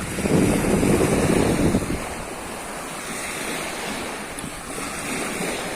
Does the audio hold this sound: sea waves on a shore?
yes